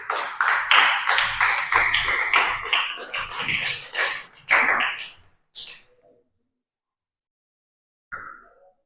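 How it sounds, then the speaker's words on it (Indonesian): Students in a classroom clap together in a dense burst of applause for about five seconds, which thins to a few scattered claps and then silence, with one last clap near the end. "kasih aplaus dulu"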